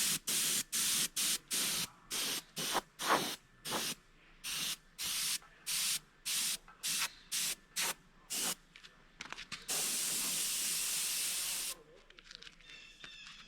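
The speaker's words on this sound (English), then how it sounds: "Now I spray the bottom half with a chrome pearl," A spray gun puts chrome pearl paint on a muskie fish replica in short, rapid hissing bursts that end in one longer continuous spray, close and fairly quiet.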